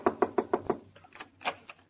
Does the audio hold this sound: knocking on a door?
yes